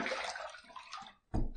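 Water runs and splashes in a sink as a short-handle safety razor is rinsed after a shave, a broad steady rush that fades out briefly before a louder close burst of flowing water.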